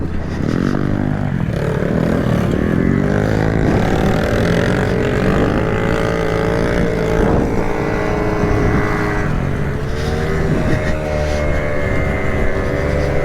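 Dirt bike engines scream and rev through a race on a worn-out bike, rising and falling in pitch as they shift, loud and continuous with other machines close by.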